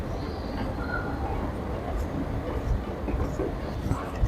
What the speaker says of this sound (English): this is the metro going north to the central station